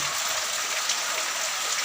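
Steady rain falling in a dense, even hiss of drops on surfaces, close and continuous throughout with no voices.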